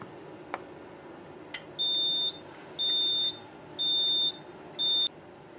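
A fire alarm panel, a Notifier Onyx 320/640, sounds after a detector is disabled: four high, steady electronic beeps, each about half a second long, evenly spaced and loud, after a couple of faint clicks.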